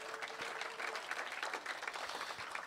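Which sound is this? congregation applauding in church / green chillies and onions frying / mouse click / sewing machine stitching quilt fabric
congregation applauding in church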